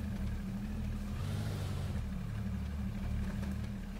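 A car engine in the survival video game H1Z1 runs with a steady low drone and a brief rev swelling in the middle, fairly close, with no one talking.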